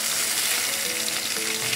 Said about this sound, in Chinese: 咁我哋將呢個鴨胸每一面都煎香佢